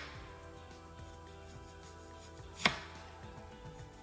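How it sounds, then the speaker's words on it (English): A knife slices an onion on a cutting board for a banana flower salad with beef, giving faint, regular soft cuts with one sharper knock against the board. "I do onion the same way. I mean slicing."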